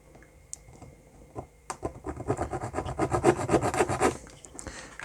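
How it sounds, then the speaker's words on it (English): A hand saw cuts across a small plastic miniature model, rapid close back-and-forth rasping strokes that build in speed and loudness, with no talking. "So you just need to line the saw up with the area you want to cut on"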